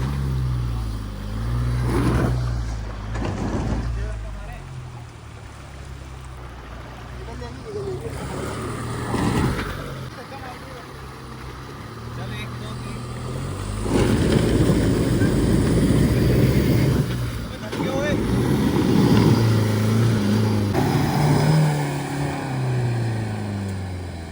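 Safari vehicle, a Thar, stuck in rough ground with its engine revving hard in loud, surging bursts that rise and fall repeatedly; a few voices are heard briefly.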